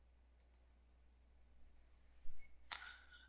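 Computer mouse clicks on a software shrink button while partitioning a disk: a faint single tick early on, then a sharper, louder click near the end over a quiet background hum.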